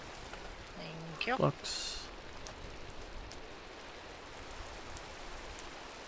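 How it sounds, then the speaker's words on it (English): Steady rain falls in the modded Minecraft 1.12.2 world, a soft, even hiss running through the whole stretch, with a voice speaking briefly near the start. "Can rain go away?"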